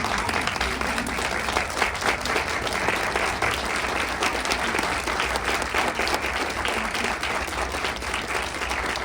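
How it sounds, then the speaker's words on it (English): A standing audience at a Come and See program event gives a round of applause, dense continuous clapping from many hands, loud and even for the whole stretch, with no speech over it. "everybody stand and give her a round of applause"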